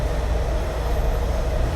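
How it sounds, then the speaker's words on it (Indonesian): A passing train in a downtown area, heard as a continuous loud rumble with heavy low-end roar and steady rolling noise throughout. "Kalau tadi kedengaran ada suara, itu suara kereta."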